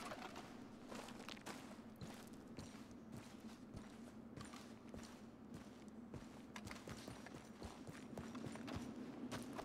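Hooves clip-clop at a steady walking pace in Red Dead Redemption 2, over a low droning background, with faint creaks; quiet and fairly close, no talking.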